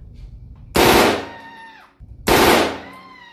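Machine gun fired at a range in two loud, close bursts of rapid shots, each ringing out with a decaying echo, a short pause between them.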